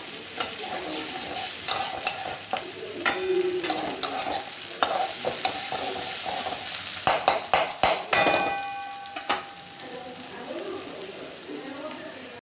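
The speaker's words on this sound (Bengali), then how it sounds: "এবার এর মধ্যে একটুখানি রসুন পেস্ট দিয়ে দিয়েছি, দিয়ে ভালো করে এটাকে পুরো কষতে হবে" Garlic paste being stirred and sautéed in a pan for chicken curry on a raised flame, with soft sizzling under repeated scraping and clattering stir strokes, some louder knocks midway.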